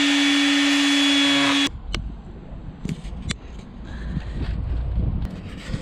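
A power tool cuts into a titanium hardtail bike frame with a steady, loud high-pitched whine for under two seconds, then stops abruptly, leaving scattered clanks and handling noises.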